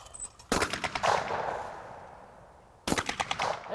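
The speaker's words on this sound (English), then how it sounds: "Good shooting, Eddie." Gunfire at an outdoor youth shooting program: two loud, close shotgun-like blasts about two seconds apart, each with a long rolling echo trailing off between them, no talking.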